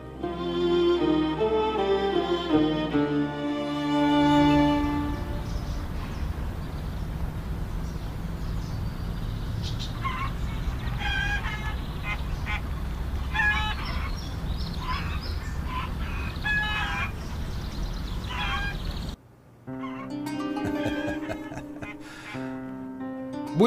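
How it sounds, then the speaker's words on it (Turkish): Chickens cluck and gobble intermittently while strolling about a farmhouse garden, fairly faint and mixed with background sound and a brief engine-like rumble. "Bu iş en çok bizim tavuklara yaradı. Baksana, salla salla geziyorlar bahçede."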